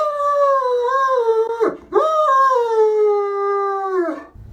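A frightened dog at the vet howls in long, wavering tones, breaking briefly into a whimper midway before resuming, close and fairly loud with no talking.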